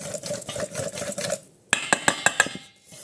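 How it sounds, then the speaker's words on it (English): Spoon scraping and clattering in a bowl as pizza dough ingredients of freshly milled flour, oil, salt and yeast are mixed, a soft steady stir followed by several sharp clinks against the bowl. "Mix this together."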